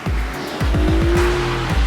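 Car tyres squeal during grip testing in harsh conditions at a South Korean automotive testing facility; a sustained squeal rides over loud, pulsing engine bursts close by.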